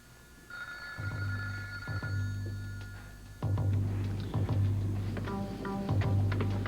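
An old telephone bell rings in repeated bursts, a bright trilling ring with short pauses between, loud and close with no talking over it.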